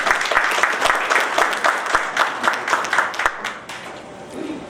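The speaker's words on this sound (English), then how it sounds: "Can you give a round of applause," A conference audience at an immigration forum gives a sustained round of applause, dense overlapping claps filling the room steadily before tapering off near the end.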